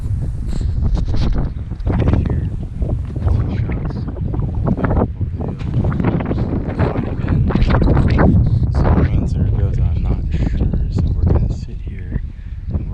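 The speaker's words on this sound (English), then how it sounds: "Well, it's still really windy." Strong wind roars and buffets the microphone nonstop on a California deer hunt, a loud, rough rush of gusts with an occasional voice underneath.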